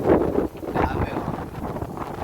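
Gusts of wind buffeting the microphone in uneven, rumbling bursts, fairly loud throughout.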